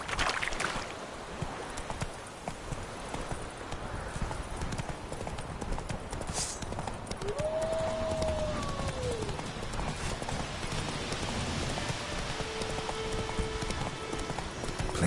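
Horse hooves clip-clop at a steady trot in The Witcher 3: Wild Hunt, with rain pattering throughout, a brief spoken voice and a soft tone in the background.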